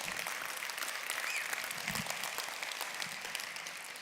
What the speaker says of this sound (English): You can clap all you want.